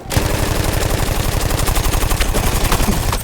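Parabellum machine gun in Battlefield 1 firing one loud, unbroken burst of rapid, evenly spaced shots, close and dominant throughout with no talk.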